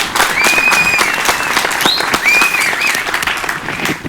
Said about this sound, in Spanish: Con un fuerte aplauso a Arcángel.